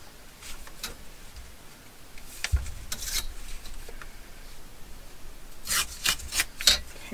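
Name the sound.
tearing and trimming paper for envelope decoration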